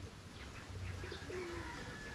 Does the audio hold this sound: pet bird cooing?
yes